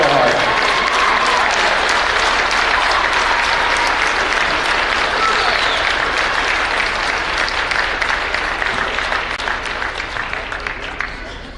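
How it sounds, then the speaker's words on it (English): Loud, sustained applause from a standing crowd at a high school boys basketball game, welcoming back a longtime local figure, with dense clapping that slowly thins toward the end. "please stand and let's welcome back with a warm round of applause the man of history for 40 years, Kevin Everh"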